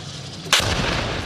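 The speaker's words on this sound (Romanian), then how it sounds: "deși în preajmă se pot încă auzi explozii." A single sharp explosion bursts near the Gaza-Egypt border at Rafah, a sudden loud crack followed by a low rumbling decay against faint background noise.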